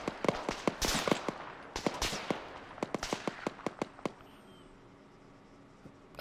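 Gunfire in a war video game set in a Second Korean War battle, with rapid sharp cracks of shots and short bursts close by, thinning out into quiet near the end.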